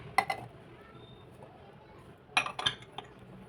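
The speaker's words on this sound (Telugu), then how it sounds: "మిక్సింగ్ జార్లో వేసుకోవాలి మామిడికాయ ముక్కలు" Pieces of raw mango dropped into a mixer jar for a mango and coconut chutney, making two brief clusters of hard clinks and rattles against the jar, close and fairly quiet, with a near-silent gap between them.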